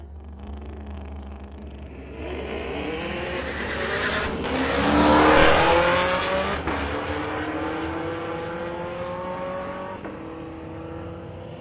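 A black Chevrolet Camaro and a 2006 Ford Mustang launch in a street-legal drag race at a raceway, with engines swelling to a loud roaring pass with tire noise at mid-distance, then trailing off.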